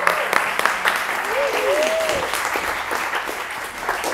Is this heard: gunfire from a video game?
no